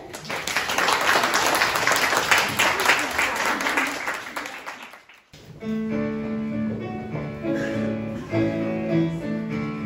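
An audience at a Christmas celebration applauds in a full, lively burst for about five seconds, then the clapping stops abruptly and music begins.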